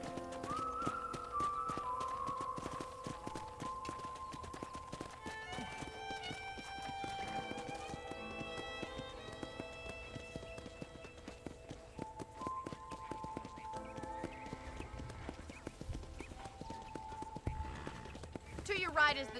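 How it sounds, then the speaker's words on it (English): Rhythmic hoof clip-clop of a trotting horse in the video game Red Dead Redemption runs steadily under music and voices throughout. "let's see if you can still ride a horse"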